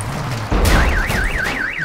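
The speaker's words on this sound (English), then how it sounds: "The car alarm." A car alarm going off in the video game Warzone 2.0 DMZ: after a short thump it launches into a loud, close, rapidly warbling siren that rises and falls in a steady repeating cycle, with no talking.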